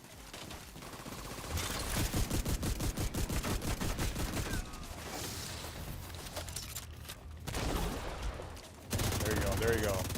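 Rapid bursts of sniper and automatic gunfire in The Division 2 video game, crackling in a dense run of shots that pauses briefly and then resumes loudly near the end.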